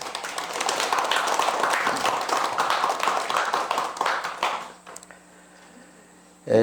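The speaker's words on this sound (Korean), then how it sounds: "우리 다 같이 큰 박수를 부탁드리겠습니다" An audience at a Buddhist temple ceremony enshrining a Buddha statue at Deunggosa applauds, a dense burst of clapping for about four seconds that fades out into a quiet room.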